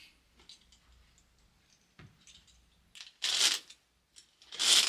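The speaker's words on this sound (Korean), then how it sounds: "지퍼 올리는 소리가 어마어마한데요." Big zipper on a winter puffer jacket being pulled up, heard as two loud, rasping zips near the end after quieter rustling, close to the mic with no talk.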